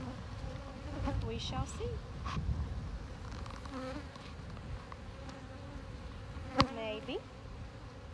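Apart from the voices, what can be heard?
honey bees buzzing around a hive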